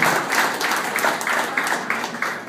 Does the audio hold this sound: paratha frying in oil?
no